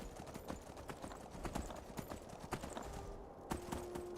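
Horse hooves clip-clop in Skyrim VR, a quick uneven run of sharp hoof strikes close by, with no speech over them.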